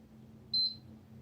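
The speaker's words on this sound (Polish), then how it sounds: "wciskamy go i czekamy aż usłyszymy dwa piknięcia" A single short electronic beep, clear and high-pitched, from a PS4 Slim console power button, sounds once against a quiet low hum.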